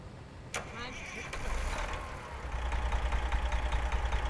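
A truck engine in American Truck Simulator, in Yellow Freight livery, starts after a sharp click and settles into a low, steady idling rumble that grows louder and holds to the end.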